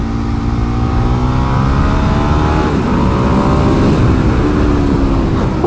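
A Ducati 1098 motorcycle ridden hard on a race track, a loud close engine roar climbing and shifting in pitch through gear changes, with heavy wind noise throughout.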